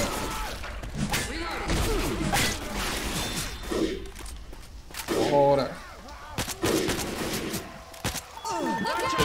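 Bursts of gunfire in Left 4 Dead 2 gameplay, repeated sharp shots with thumps and whooshes at irregular intervals, mixed with game sound effects and people talking over them.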